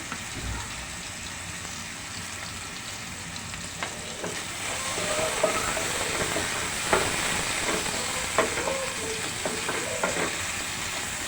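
Tomato frying with salt and spices in a pan, a continuous close sizzle and hiss that builds slightly, broken by repeated scraping taps of a stirring spoon against the pan; no voices.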